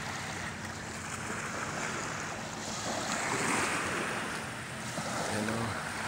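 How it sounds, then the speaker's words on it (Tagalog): Ocean waves washing onto a beach at sunset in Samar, a steady, broad roar of surf mixed with wind noise, continuous and fairly loud, with no talking. "Ayan po yung ating dalampasigan"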